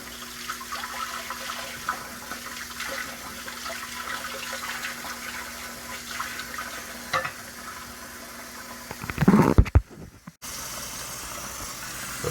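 Running water rinsing heavy rust off small metal relics, a steady splashing wash that swells into a louder gush near the end, then briefly cuts out.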